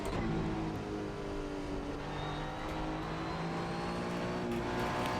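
Toyota GR01 hypercar in the racing game Assetto Corsa, a steady, loud engine drone with a rising pitch as it accelerates, lasting throughout with no talk.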